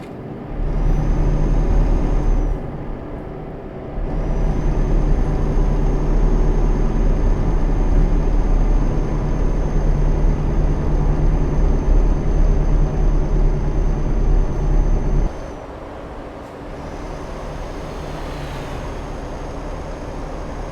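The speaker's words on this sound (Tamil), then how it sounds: "வண்டி வேகமாக வருதுங்க." Heavy truck engine droning steadily at speed in Euro Truck Simulator 2, passing through a city and a tunnel, with a brief drop in level midway and a faint high whine throughout; no one speaks.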